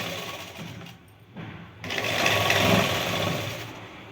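A sewing machine stitches along a trouser pocket, its rapid needle chatter running in close bursts with a brief pause before resuming louder and steadier.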